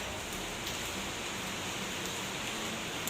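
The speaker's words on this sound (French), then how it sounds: "pleut énormément." Heavy rain falls in Costa Rica, a steady, broad, rushing patter that stays even and continuous throughout, moderately quiet with no voices.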